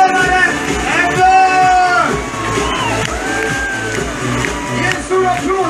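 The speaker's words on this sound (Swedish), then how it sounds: "En stor applåd till truckföraren Ebbe!" A large festival concert crowd in Sundsvall cheers, whoops and shouts at a show, continuous loud crowd noise with children's voices, while someone talks over it through the PA.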